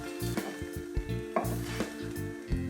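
Spicy grilled paneer sandwich sizzling in butter on a pan, a steady crackling fry with scraping and clinking of a spatula against the pan at close range.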